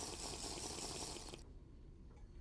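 Water pouring for a drink, a steady rushing stream that cuts off abruptly partway through, followed by quiet room tone.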